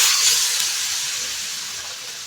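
Boiled water poured into a hot pan of paneer curry, giving a bright sustained hiss of steam and sizzle that stays fairly loud and slowly fades over a couple of seconds, with no talking.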